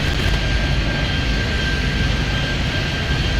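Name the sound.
airplane taking off in the Airport Madness video game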